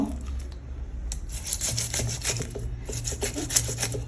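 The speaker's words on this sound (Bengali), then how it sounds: "এটা মাছ ঘষার জন্য দারুণ হয়েছে সুন্দর তো এইভাবে আমি সব আঁশগুলো ছাড়িয়ে নেব" Hilsa fish are scraped to remove their scales. The result is a run of quick, close, rasping strokes in an uneven rhythm, with faint kitchen noise underneath.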